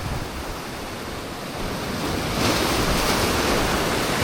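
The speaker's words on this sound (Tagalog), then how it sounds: "Galit na galit yung alon ah." Rough ocean surf roars continuously on an overcast day at a fishing spot, a broad wash of breaking waves that swells louder partway through, mixed with wind buffeting the microphone.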